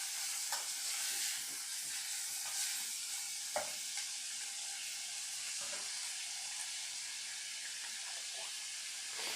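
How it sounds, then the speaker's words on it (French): Lardons cooking in a dry pan without oil give a steady close hiss of sizzling fat, with faint scrapes and taps from stirring scattered through and one sharper knock in the middle. "On entend les petits grésillements des trucs."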